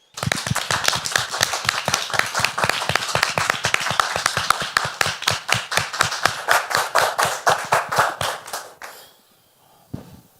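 A gathering welcomes a guest with applause at a French-language family-life teaching event, a rhythmic run of loud, close, distinct hand claps in near-unison, many beats per second, stopping abruptly near the end before one last clap.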